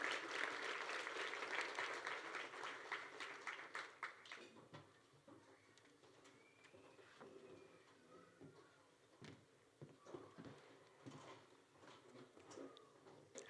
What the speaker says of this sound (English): give her a round of applause for her work as the president of the Student